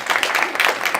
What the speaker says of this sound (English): Give that person a round of